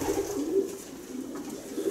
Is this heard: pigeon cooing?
yes